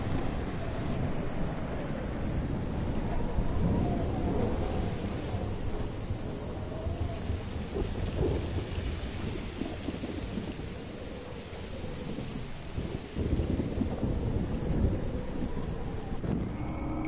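A heavy thunderstorm keeps up a constant roar of pouring rain and gusting wind buffeting the microphone. Deep rumbles of thunder rise out of the din at intervals.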